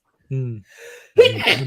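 A single sharp sneeze bursts out during a casual livestream, right after a brief voiced hum and a soft breathy sound, close and fairly loud.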